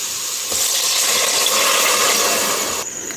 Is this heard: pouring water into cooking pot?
yes